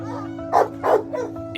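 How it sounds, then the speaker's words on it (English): An American Bulldog in a shelter rehabilitation setting gives a few short barks and yips, two louder bursts followed by a softer one, over a steady low hum, close and moderately loud. "So this is a serious dog."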